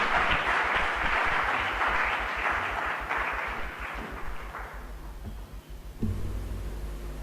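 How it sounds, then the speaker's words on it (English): Audience applause for a Central Regional Minister at a Ghanaian economic briefing, a dense, loud wash of many hands that gradually fades, with a voice briefly heard over its tail. "a round of applause for him."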